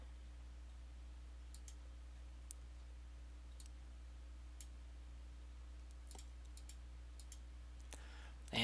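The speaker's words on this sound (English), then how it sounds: "go into the graph editor and click on the locator" Mouse clicks while working in the Maya graph editor, faint sparse single and double clicks spread over a quiet, humming room, close and soft, with no talking.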